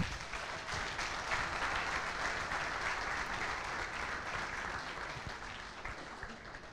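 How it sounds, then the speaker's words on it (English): Audience applause for lecturers at the SOLIDay 2015 IT event, a dense steady round of clapping from a crowd that holds evenly for several seconds before easing slightly near the end. "So let's give them a round of applause again."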